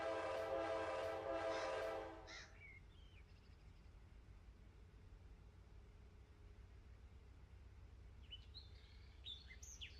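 A train in the Run 8 simulator game sounds a loud horn blast for about two seconds, then settles into a quieter, steady low rumble with a few faint chirps near the end.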